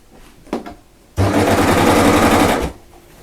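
A sewing machine stitches a fabric strap on a thread and scrap catcher, a short click of positioning followed by about a second and a half of fast, loud, even motor-driven stitching close by.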